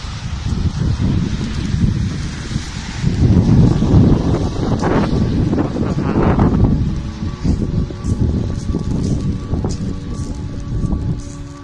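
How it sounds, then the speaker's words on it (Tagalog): Strong wind blowing hard during a snowfall in Poland, a loud continuous rush that gusts and swells around the microphone, with rustling and buffeting throughout and no talk. "Biglang lumakas yung snow tsaka yung hangin."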